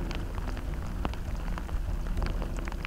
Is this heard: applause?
no